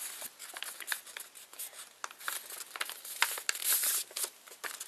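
Paper being folded and creased by hand for an origami pigeon, a close series of crinkling and rustling crackles that comes in irregular bursts, with no talking.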